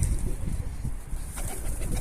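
Pigeons in a coop cooing softly at close range, low repeated murmurs with a faint flutter of wings and steady background hiss.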